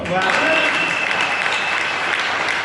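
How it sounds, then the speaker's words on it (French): Church congregation applauding during a sermon at a tabernacle in Daloa, Côte d'Ivoire: loud, dense clapping that swells at the start and carries on steadily, with a faint voice briefly heard at the beginning. "Applaudis pour toi."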